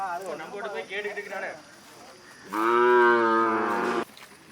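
Cattle at an annual temple festival cattle market in Anthiyur, a close, long, loud moo after a shorter lowing call, with crowd murmur behind.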